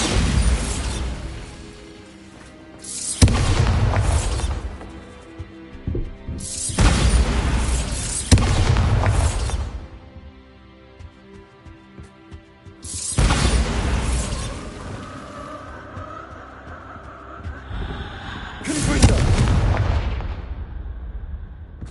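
Heavy booming blasts from the Bombarda explosion spell in the video game Hogwarts Legacy, several loud bursts with rumbling tails separated by quieter gaps.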